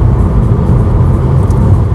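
Honda 1.6 diesel station wagon, 120 hp, cruising on a highway, heard from inside as a loud, steady engine drone with road and tire roar and no talk.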